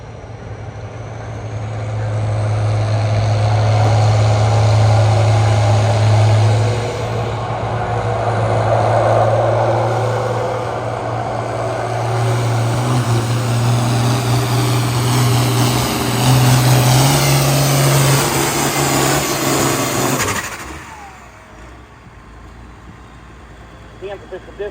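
A tractor engine roars at full power during a truck and tractor pull at a catfish festival, a loud sustained drone that swells and holds for about twenty seconds before cutting off, with an announcer talking over it.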